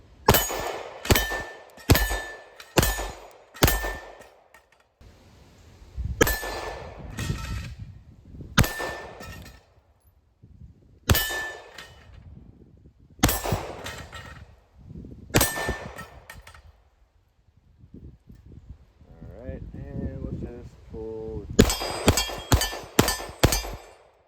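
Pistol shots fired with a red dot sight at a shooting range ring out in quick bursts of sharp cracks, then scattered single shots between quieter pauses, and a final rapid string at the end.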